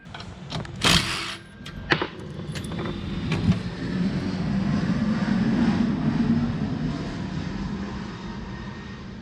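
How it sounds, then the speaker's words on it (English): A big jet airliner passes over a house, a broad rumbling roar that swells over several seconds and holds steady, preceded by a few sharp clanks from nearby work on a minibike. "Big old jet just went over the house."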